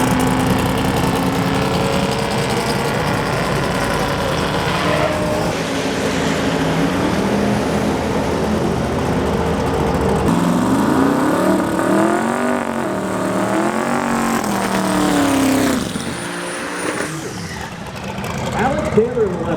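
A 1955 Chevy at a drag strip, the engine roaring and revving with wavering pitch, close and loud, mixed with a loudspeaker announcer's talk and mechanical clatter around the track.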